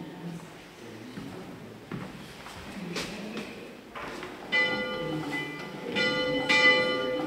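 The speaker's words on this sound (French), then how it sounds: "Comment résister au plaisir de faire sonner cette cloche comme au bon vieux temps?" The oldest church bell in the valley, cast in 1655 and hung in a chapel bell tower, rings out in several clear, resonant strikes with long humming decay, after a few faint knocks and creaks.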